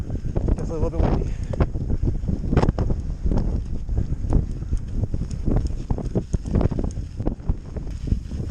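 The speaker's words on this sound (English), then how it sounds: "A little bit windy." Wind buffets the microphone in a constant low rumble with gusty surges throughout, loud and close, partway up a mountain trail in the Montara Mountains.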